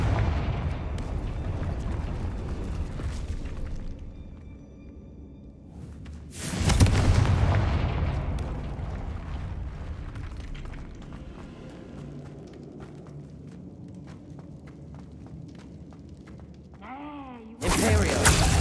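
Confringo blasting spell explosions in the Hogwarts Legacy video game: two loud, sudden booming blasts with a bright burst, the first around the middle and the second at the very end, separated by quieter game ambience and rumble.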